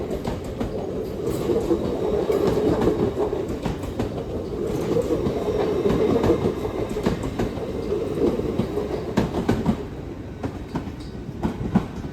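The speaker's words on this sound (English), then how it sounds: "Depart now is a Transparent Express service off to Liverpool Lime Street, 802 216 off to Liverpool Lime Street" A TransPennine Express class 802 train departs Newcastle station bound for Liverpool Lime Street, its steady engine drone and wheel clatter rolling past nearby for the whole stretch, with rhythmic clicks over the rail joints.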